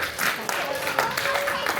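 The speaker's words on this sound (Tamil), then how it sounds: "பெண்கள் இருந்து பலமான கைத்தட்டு வருது." Women in a debate-show audience clap, a dense burst of applause that runs the whole short stretch at moderate loudness, partly under a voice talking.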